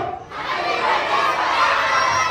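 Birthday party guests in a tall hall shout together in one loud, sustained crowd roar, with children's voices mixed in. It rises sharply after a brief pause at the start and holds.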